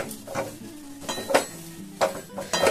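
A semolina milk cake mixture is stirred and scraped in a wok, giving repeated soft scraping strokes at close range with short gaps between them and no talking.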